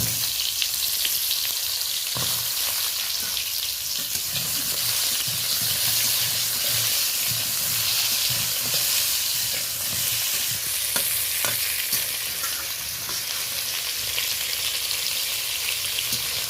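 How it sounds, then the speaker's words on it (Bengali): Pointed gourd (potol) fries lightly in hot oil, a steady close sizzle and crackle with occasional stirring knocks and no talking. "গরম হয়ে গেছে, আমি পটলগুলোকে হালকা হাতে ভেজে নেব।"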